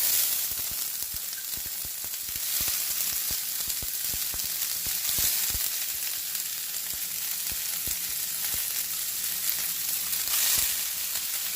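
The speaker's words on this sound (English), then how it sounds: "So you see the pot well hot. So I'm just gonna put in my cabbage and my carrot." Cabbage and carrot hit a well-heated pot for a Jamaican stir fry, giving a loud, steady sizzle laced with crackles and pops that runs throughout, with no voices.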